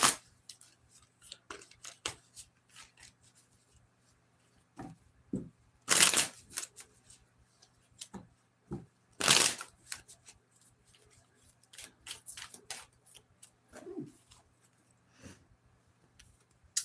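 Tarot cards being shuffled in a few short, crisp bursts of riffling and flicking, separated by quiet pauses, close up in a quiet room.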